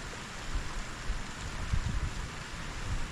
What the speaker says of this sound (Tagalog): Kuha ng ulan.